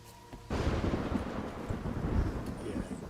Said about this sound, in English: Oh no, it's raining again.